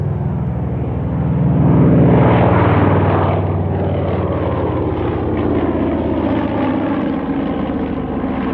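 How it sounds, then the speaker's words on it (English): A Catalina flying boat passes close over the Duxford airfield during a 1996 airshow, its propeller engines giving a loud droning rumble that swells to a peak early and then slowly fades as it moves away. "As the Catalina makes its final fly past the line of assembled Spitfires"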